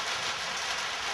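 Rain falling in a garden in Kyoto, a steady soft hiss of drops on surfaces, even and continuous, fairly faint and with no voices.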